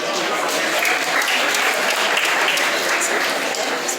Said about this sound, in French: Pendant que nous continuons à applaudir, on nous applaudit encore s'il vous plaît.